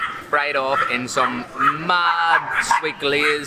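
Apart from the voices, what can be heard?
small dogs barking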